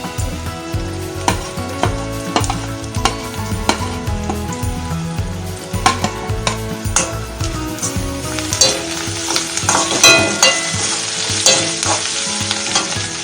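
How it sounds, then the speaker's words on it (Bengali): Chopped onion and ginger frying for fried rice, a steady close sizzle in hot oil that grows louder toward the end, with a spatula scraping and stirring through it, no talk. "পেঁয়াজটা একটু লাল হয়ে এসেছে, এবার আদা কুচিটা দিয়ে দেব।"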